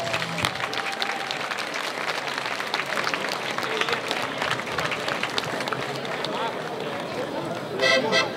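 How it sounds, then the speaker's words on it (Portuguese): Loud, sustained audience applause at a folklore festival in Lobão, steady dense clapping filling the whole stretch with crowd noise, swelling slightly near the end. "Um forte aplauso para o Reis Folclore de Santiago de Lobão."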